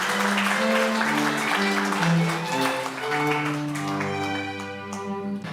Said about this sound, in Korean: 여러분 다시 한번 큰 박수 부탁드리겠습니다